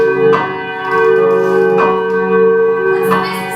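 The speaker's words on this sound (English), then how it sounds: "Ring the alarm bell." An alarm bell tolls during a graduating class's stage production of Macbeth, three heavy resonant strikes spaced slowly apart, each ringing out with a long humming decay.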